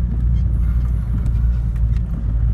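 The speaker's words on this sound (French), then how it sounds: "Même sur des terrains comme ça un peu accidentés, la Passat elle gère vraiment bien." A Volkswagen Passat drives along a rough, bumpy country lane in the Harz region of Germany. Its steady, loud low rumble of engine and road noise runs throughout, with faint knocks from the suspension over the uneven surface.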